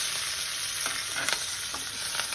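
Curry leaves and lentils fry in hot oil for a broad bean and jaggery curry, giving a dense, close sizzle with a few light stirring clicks.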